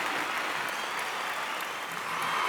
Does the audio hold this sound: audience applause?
yes